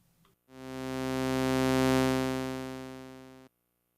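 A single unison layer from the Drift synthesizer in Ableton swells in slowly under a long attack, holding one rich, buzzy harmonic tone for about three seconds before cutting off cleanly into silence.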